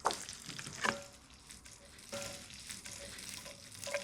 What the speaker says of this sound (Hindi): So when you see the green chili sizzling along with the कलौंजी की सीड्स, तो उस समय हम इसमें अनियन डालेंगे।